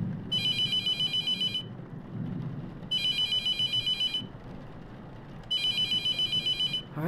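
A telephone rings in three repeated electronic bursts, each about a second and a half long, separated by quiet gaps over low background hum, inside a mortuary setting in The Mortuary Assistant horror game.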